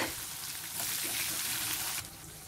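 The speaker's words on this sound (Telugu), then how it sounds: "వేసేసుకొని ఈ ఆనియన్స్ని కొద్దిగా వేగనివ్వాలి" Chopped onion and green chillies fry in hot oil over tempered cumin and spices for a village-style brinjal curry. A steady close sizzle swells louder partway through, then eases back near the end.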